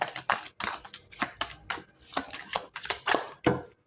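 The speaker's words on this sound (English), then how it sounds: "All right, three shuffles." Quick bursts of riffling and slapping in an irregular rhythm, like a deck of cards being shuffled several times up close, with no voices.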